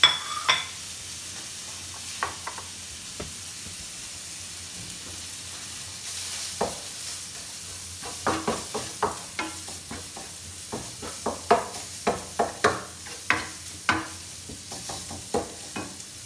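Minced-meat kefta seasoned with cumin fries in a pan under a steady soft sizzle, while a utensil scrapes and stirs it in frequent sharp clicks and taps that grow busier toward the end.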